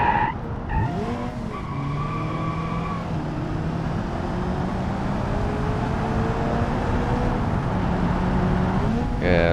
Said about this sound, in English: The RPM goes up pretty high